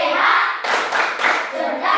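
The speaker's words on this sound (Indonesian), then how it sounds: "Mari kita melaksanakan tepuk apa kabar dulu pada nama saya ini" A classroom of children performs the Indonesian clapping game 'tepuk apa kabar', rhythmic group hand claps in short bursts, close and fairly loud, with a few sharp accented claps.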